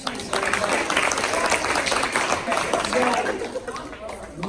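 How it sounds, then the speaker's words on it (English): Applause from a group of staff at a restorative practice session, a lively sustained clatter of many hands clapping close by, mixed with crowd chatter and voices. "Can you give her a clap?"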